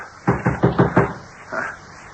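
Five quick, firm knocks on a locked bedroom door, loud and close, followed after a short pause by a brief muffled thump.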